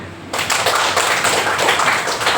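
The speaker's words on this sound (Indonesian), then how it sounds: "Tepuk tangan" Students in a classroom burst into dense, loud clapping that starts abruptly and carries on steadily without pause.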